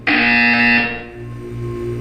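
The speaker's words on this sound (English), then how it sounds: "You will hear a buzzer." A loud harsh electronic buzzer from the video game Portal 2 sounds once, sustained for about a second, then decays into a lower lingering hum.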